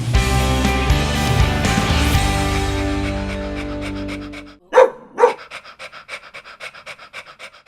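Puppies between 8 and 18 weeks old at a Petstock puppy school give a loud, close burst of panting and breathy yips, then two sharp barks and a run of quicker panting breaths that fade toward the end.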